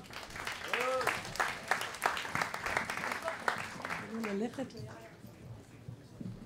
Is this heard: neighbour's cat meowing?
no